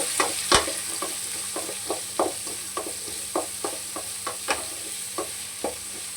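Onions sautéing in oil in a pan for a village-style country chicken curry, with a steady sizzle under a series of regular stirring scrapes and a louder clack near the start, close and alone.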